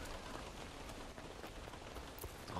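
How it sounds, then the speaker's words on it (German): Steady rain hiss in the Infamous Second Son game world, a dense, even patter of drops on surfaces, faint and continuous with no voices. "Die Regengeräusche."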